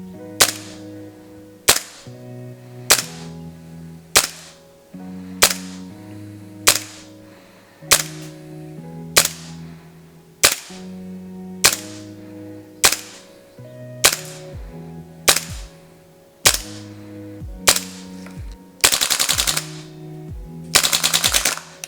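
Gas blowback G&G MGCR 556 7-inch airsoft rifle fires during a range test, with regular single shots spaced about two seconds apart, each with a sharp crack and clattering bolt cycling, then two fast full-auto bursts at the end.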